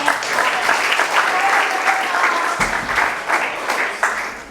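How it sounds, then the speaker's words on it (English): Sustained audience clapping for Tommy at a 2023 coaches meeting, a dense steady patter of many hands filling the room at close range, with a few faint voices underneath. "Guys, clap it up for Tommy."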